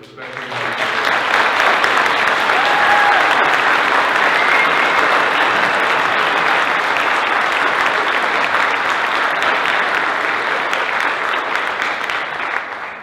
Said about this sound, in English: our tech kids give a huge round of applause